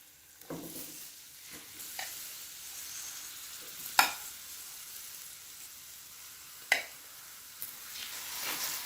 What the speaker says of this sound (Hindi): चिकन को भी मैं 2 से 3 मिनट के लिए इसी तरीके से पकाऊंगी